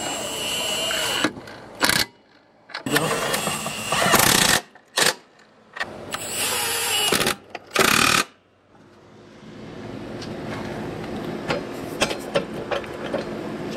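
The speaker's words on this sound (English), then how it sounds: "We're gonna go ahead and tighten all the 4 bolts." A power tool rattles loud and close in several long bursts while tightening the 18mm bolts or nuts on a 2019 Can-Am Maverick X3 XRS Turbo R under repair, with short silent gaps between bursts and then lower ambient noise.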